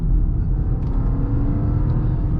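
A 2025 MINI Countryman John Cooper Works engine hums and revs from inside the car while driving, a loud steady low rumble with a slight rising whir and no speech.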